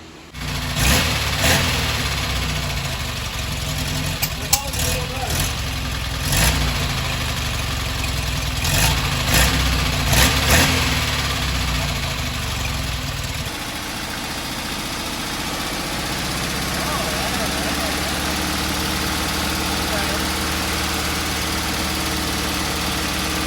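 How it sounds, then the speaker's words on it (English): A 1968 Porsche 912 engine idles steadily while its carburetors are tuned, a close, continuous low rumble whose pitch and tone shift partway through as the idle mixture and idle speed are adjusted. "He's tuning the carbs right now. He's adjusting the idle mixture screw and then adjusting the idle speed"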